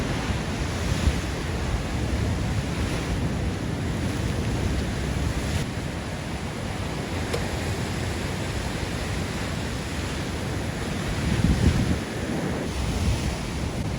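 Ocean waves washing over coastal rocks, a loud, continuous roar of surf and rushing water with heavy wind buffeting the microphone.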